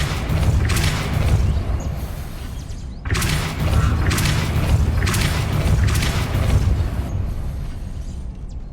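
Repeated heavy booming impacts and low rumbles from the Depulso force spell in the video game Hogwarts Legacy, several strong hits with a short silent break between them, loud and near.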